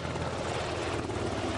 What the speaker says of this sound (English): These ships can carry two SH-60BR Seahawk helicopters.